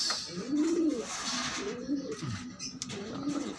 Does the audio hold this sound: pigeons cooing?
yes